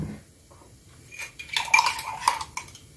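Cream being whipped with a whisk in a bowl for a birthday cake, with quick clinking metal-on-bowl beats that grow louder and busier after a quiet start.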